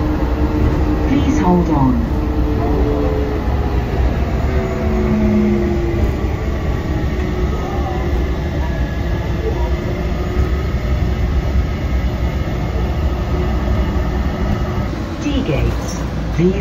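An airport terminal train at Dubai International Airport rumbles steadily throughout, with low running noise and a shifting whine, while a recorded announcement speaks over it.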